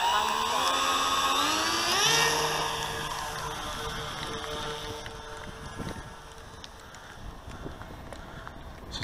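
Electric Dynam C47/DC3 model airplane flying overhead at a park, its motors whining in rising and falling tones that slide as it banks past, fading somewhat with wind buffeting the microphone.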